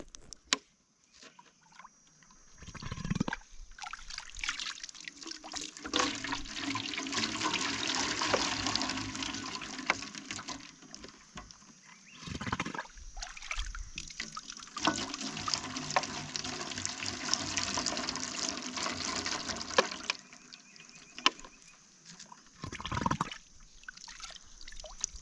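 Drinking water scooped by hand outdoors, with splashing, pouring and trickling in long uneven stretches broken by brief quieter pauses.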